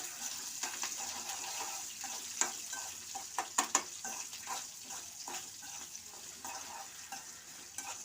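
Curry leaves, chillies and onion sizzle and crackle steadily in a hot pan, with scattered sharp pops and occasional stirring scrapes, close and fairly quiet.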